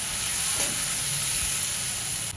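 Chili powder and turmeric fry in a pan for an onion-coriander zunka, a steady, close hiss of sizzling with a light stir partway through and no voices.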